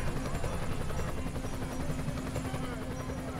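Helicopter rotor and engine in the emergency-services game Emergency 2016, a steady low pulsing drone with a faint whine, continuous and fairly close.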